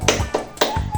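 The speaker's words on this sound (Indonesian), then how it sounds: "ayo kita tepuk P5" Indonesian school class clapping the P5 clap rhythm, sharp hand claps in a quick uneven pattern of about five hits, with voices chanting along.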